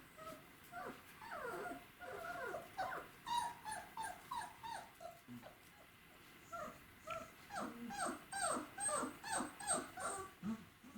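Czechoslovakian wolfdog puppies whimper, yip and squeal in a busy, overlapping chorus of short high cries with occasional low growls, close and continuous throughout.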